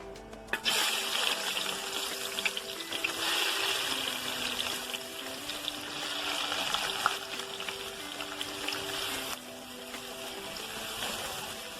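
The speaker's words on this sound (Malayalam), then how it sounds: "കുറച്ച് എണ്ണയും വീഴ്ത്തി നമുക്ക് ആ സവാള ഒന്ന് മൂപ്പിച്ചെടുത്തിട്ട് വരാം." Sliced onions fry in oil in a pan, a dense, steady sizzle that stays close and even for the whole stretch without pause.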